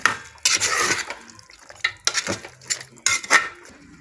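A ladle scrapes and clanks against a metal pressure cooker while mutton curry is stirred, several bursts of metallic scraping separated by brief pauses, close and clear.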